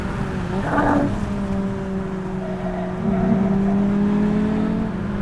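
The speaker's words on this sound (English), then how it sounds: "Just about a second and a half on the rev limiter there in 4th gear at the end of the front straight" A 2017 Honda Civic Type R engine sits on the rev limiter in 4th gear at the end of a track's front straight, giving a steady loud droning note with a slight pitch shift partway through, heard without any talk.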